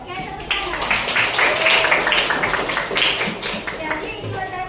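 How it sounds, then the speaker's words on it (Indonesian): A classroom of students clapping together, a moderately close patter of hands that rises and holds for a few seconds, with children's voices talking over it. "oke, tepuk tangan"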